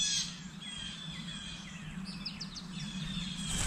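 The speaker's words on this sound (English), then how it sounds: "the bird sounds I'm also hearing outside my window" Birds chirp outside a window in the morning, a few faint high calls scattered over a steady low hum of indoor background noise.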